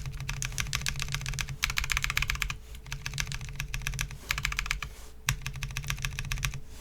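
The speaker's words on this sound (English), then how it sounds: "I type my literal thoughts so that I'm typing actual real words" Steady typing on a Snake60 mechanical keyboard, a close, loud, rapid patter of key clicks arriving in bursts separated by brief pauses, with no voices over it.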